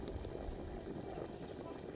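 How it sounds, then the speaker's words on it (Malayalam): Soft, continuous bubbling of salted water at a rolling boil in a pot on the stove, low and steady, with a few faint clicks. "നന്നായി തിളയ്ക്കുന്നുണ്ട് നമ്മൾ അടുപ്പത്താട്ട വയ്ക്കുന്നത് നന്നായി തിളച്ച് വരുന്നുണ്ട്"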